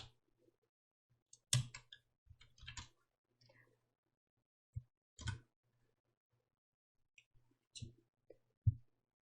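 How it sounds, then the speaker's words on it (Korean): Computer keyboard keys are pressed one at a time in separate, sharp clicks and short clusters with quiet gaps between them, close and clear, with no talking. "키보드에서 윈도우 로고 키, 또 ESC 키."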